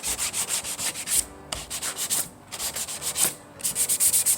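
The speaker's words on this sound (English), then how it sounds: "So I got all the edges sanded down." A rotary tool sands the edges of a scrap plywood shark cutout, making close, rhythmic abrasive rubbing strokes with two brief pauses.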